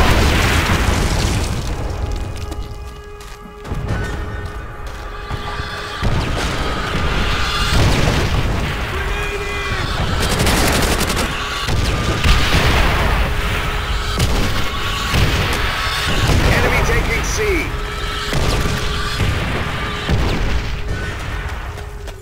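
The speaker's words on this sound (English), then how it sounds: "Our artillery will shake him up!" Artillery explosions boom repeatedly in Call of Duty: World at War multiplayer, a dense, loud barrage of heavy blasts and crashes rolling over one another with almost no letup.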